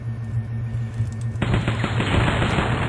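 Rapid automatic gunfire from a Flash shooter video game, a dense burst of shots that starts abruptly partway through and continues loud over faint background game music.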